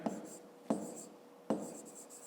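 Handwriting with a pen or pencil on paper while working a fifth-grade maths exercise, three quiet scratchy strokes at regular intervals, close and isolated.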